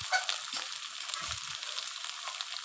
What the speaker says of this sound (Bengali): এগুলো দিয়ে এবার আমি ভালোভাবে নাড়াচাড়া করে মশলাটিকে একটু ভেজে নেব